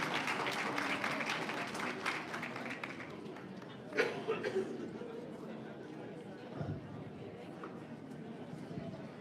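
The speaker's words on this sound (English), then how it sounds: "Let's give a round of applause for everybody coming out for their first time." Audience applause at a 2023 district budget town hall, a dense burst of clapping that fades into murmuring chatter and a voice speaking.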